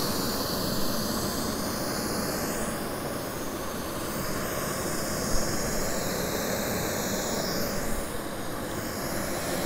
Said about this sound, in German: wenn du jetzt die Turbinendrehzahl anhebst, in dem Moment schaltet sich automatisch der Rotor ein